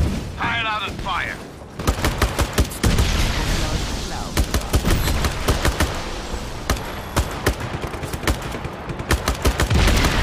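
Rapid bursts of video game gunfire from Just Cause 3 crackle in repeated volleys, loud and close, with a brief voice early on.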